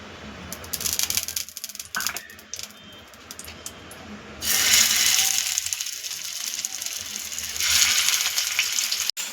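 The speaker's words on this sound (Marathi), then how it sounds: "आता आपण त्याला शेलो फ्राय करून घेऊया" Chicken mince seekh kebabs shallow-fry in oil in a pan, with uneven clicks and taps at first, then a louder spitting sizzle that swells twice and crackles on without a voice.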